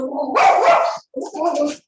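An agitated dog barking loudly and close by, two sharp barks in quick succession with a short gap between them.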